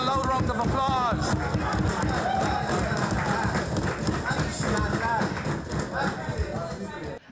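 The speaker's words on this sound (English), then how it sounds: "I want to give him a loud round of applause." Dense, continuous clapping from a crowd at a political party announcement, loud and close, with a voice talking over it throughout and the applause tapering slightly near the end.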